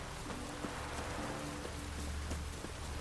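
Rain falling in a town in The Witcher 3, a soft, steady patter of drops on surfaces, faint and continuous throughout with no voices.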